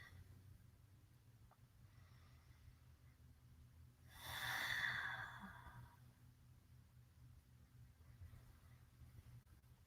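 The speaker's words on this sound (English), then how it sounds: "now let's take 6 more deep breaths here." A single deep breath, a slow audible inhale or exhale swelling and fading over a couple of seconds against a quiet low hum, close and soft.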